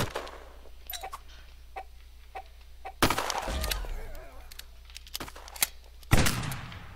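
Gunfire in the first-person egg shooter game Shell Shockers: sharp repeated shots in irregular bursts, with two louder blasts that ring out, over a steady low background hum.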